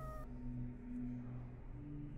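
A cat meows faintly and briefly at the start, then a low steady background hum carries on with no voices.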